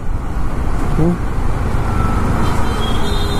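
Road traffic on the drive from Hyderabad toward Yadagirigutta: a steady, close rumble of passing vehicles with continuous road noise throughout.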